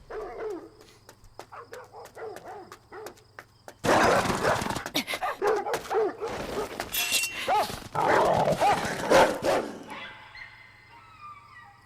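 Dog barking in a dark Viking-era anime episode, a run of loud, close barks and whimpers mixed with dramatic scoring and action noise, following a quieter stretch with a low hum.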